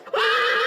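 A draught horse gives a short, loud whinny close by, a single bright call that rises quickly and holds briefly before cutting off.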